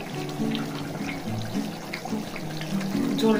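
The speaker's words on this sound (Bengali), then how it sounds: "মাছগুলো এবার ঝোলের মধ্যে ঢুকিয়ে দেবো, যাতে রসগুলো ভালো ঢোকে।" Gravy spooned and poured over fish pieces in a cauliflower fish curry, a continuous liquid bubbling and pouring sound with soft spoon movements throughout.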